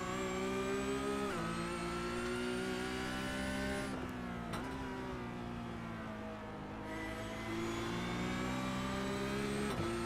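Porsche Cup race car engine at Zolder, a loud sustained high-pitched howl that rises through the gears, dips briefly on downshifts, then climbs again, heard close from onboard with no talk.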